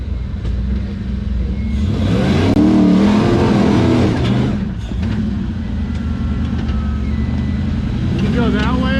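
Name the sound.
LS-powered car revving during a tire-smoking burnout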